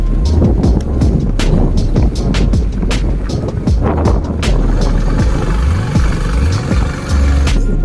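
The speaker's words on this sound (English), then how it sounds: "So I'm taking this bike on a ride. It's almost 2 kilometers more I have to ride on this terrain there." A motorbike rides over rough terrain near a mountain beach in South Goa, its engine droning steadily under heavy wind buffeting the mic, with jolts and rattles as the wheels hit bumps.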